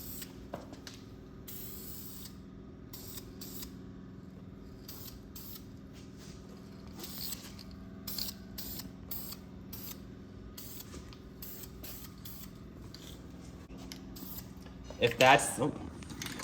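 Short bursts of spray paint hiss in repeated passes while a coat goes onto a shaved Mk4 GLI engine bay, quiet and close, with a sharper clatter near the end.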